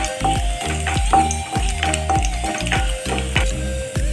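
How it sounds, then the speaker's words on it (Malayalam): Garlic sautéing in a hot pan for mixed noodles, a steady loud sizzle and fry broken by repeated rhythmic scrapes and knocks of a utensil stirring against the pan. "അതിലേക്ക് നമുക്ക് ഫസ്റ്റ് വെളുത്തുള്ളിയാണ് ഞാൻ ആഡ് ചെയ്യുന്നത്. ഒന്ന് സോട്ട് ചെയ്ത് കൊടുക്കാം"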